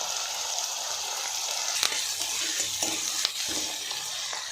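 Onions with salt and curry leaves fry steadily in a pan, a continuous bright sizzle with a few soft stirring scrapes and clicks, close and without talk.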